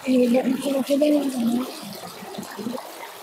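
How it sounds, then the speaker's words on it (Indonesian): Strong flowing water pouring steadily in a household washing area, with someone speaking over the rushing sound. "Airnya deras sekali"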